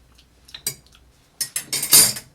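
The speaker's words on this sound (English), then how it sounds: "Let's give it a slight stir before we put the ice." A spoon clinks and scrapes against a glass while a cocktail is stirred, a few sharp metallic taps followed by a quick cluster of rattling clinks, close and clear with no talk.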